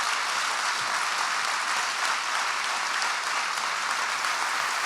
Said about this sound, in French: je vous propose d'applaudir les personnes qui étaient avec nous